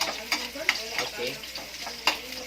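Garlic and onions fry in a pan for pancit, a soft steady sizzle with several sharp utensil scrapes and taps as the mix is stirred.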